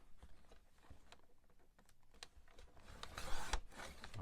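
Scissors trimming the torn edge off a sheet of paper: a run of faint, irregular snips and rasping crinkles that builds into louder, brighter cuts near the end, with no voices.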